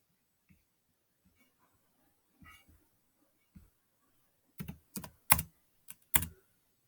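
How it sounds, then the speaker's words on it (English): Someone types an answer on a computer keyboard, a few sparse quiet taps followed by a short burst of louder, closer keystrokes. "I'm going to go type it in."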